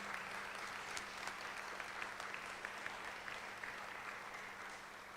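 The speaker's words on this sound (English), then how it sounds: "Can we get one more round of applause for our main speaker, Dr. Bradley Onishi?" An audience at a Sunday gathering gives a steady round of applause for the main speaker after a talk on Christian nationalism, dense even clapping from a crowd that holds for several seconds without fading.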